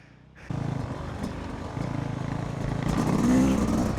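A Yamaha YZ250 two-stroke dirt bike engine drones on a motocross track at Brushy Mountain Motorsports Park, starting abruptly and holding a steady buzzing roar that rises slightly louder toward the end.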